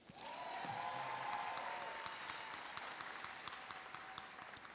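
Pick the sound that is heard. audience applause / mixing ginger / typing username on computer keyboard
audience applause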